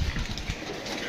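Pigeons on a rooftop give a soft, low cooing and a brief flutter of wings, close and fairly faint over light background noise.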